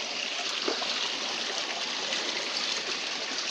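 Steady, broadband rush of stream water flowing outdoors, a close and even wash with no talking, holding level the whole time.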